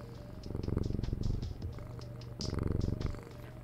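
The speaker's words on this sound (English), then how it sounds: "Because I think there's purring. I think I can hear purring." A domestic cat purrs close and steady, the rhythmic rumbling pulses rising and falling in two loud stretches with a softer gap between, no talking over it.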